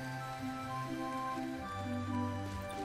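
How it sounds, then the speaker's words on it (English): Rain falls in the farming video game World's Dawn as a steady, even patter that runs the whole stretch, layered under sustained tonal game music. "Raining again today."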